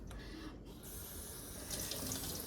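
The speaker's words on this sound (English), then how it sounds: "I'm just gonna rinse this out real quick" A measuring cup rinsed under a running kitchen tap, a steady, close rush of water splashing into a sink with a slight change in tone as the cup fills, no talk.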